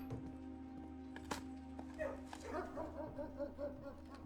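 A dog in the video game Blue Prince gives a few faint, short yips and barks that cluster in the latter half over a quiet, steady game backdrop.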